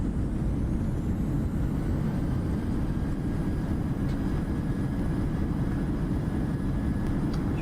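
A PMDG 737-600 in a Microsoft Flight Simulator landing roll, reverse thrust roaring as a steady, loud, broadband rumble that holds constant throughout.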